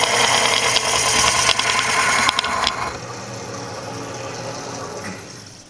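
A Proforme hook tool shaving punky, soft wood on a spinning lathe, a loud steady motor whine with rough scraping chatter that eases slightly as the cut continues.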